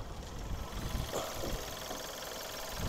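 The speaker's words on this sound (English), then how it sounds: "But at least you can hear how quiet the engine is." A 2009 Volkswagen Golf SE TSI engine idles quietly, a soft low steady hum with faint mechanical ticking, heard close with no talk.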